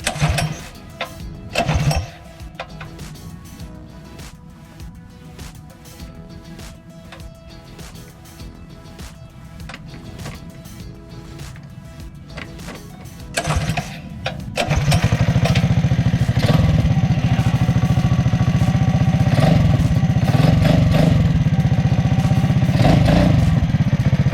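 A Mighty Moto minibike engine with a new pull start is tugged over with choke, giving a few rattling attempts and clatter, then catches and settles into a loud, steady, smooth running drone close by.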